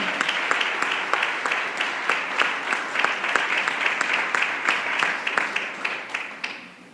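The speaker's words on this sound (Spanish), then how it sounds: "dele un aplauso al Señor" A church congregation applauds during a Spanish-language service, a continuous, fairly loud stretch of many hands clapping with rhythmic accents running through it, with little talk over it.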